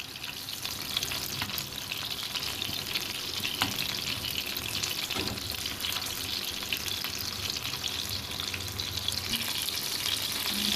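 Chicken reshmi kababs sizzle steadily as they pan fry in hot oil, a continuous close crackle and hiss with light stirring scrapes, no voices over it.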